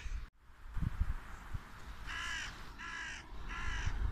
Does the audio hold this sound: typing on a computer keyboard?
no